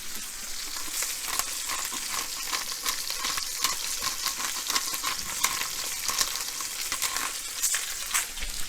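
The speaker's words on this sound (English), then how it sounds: "Ooh, a little grease pop." Chicken sautéing with tarragon in a hot pan gives a steady close sizzle with frequent sharp crackles of grease popping throughout, with no voices.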